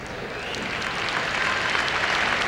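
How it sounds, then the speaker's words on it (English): A bowling crowd at the 1995 PBA Splitfire Open breaks into applause, with clapping that builds over the first half second and then holds steady and fairly loud. "they start applauding to cheer him up"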